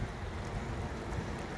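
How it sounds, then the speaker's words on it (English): Rain falls on a garden on a Monday morning after a wet night, a dense, even hiss of drops with no pauses and no voices. "and it's rained all night."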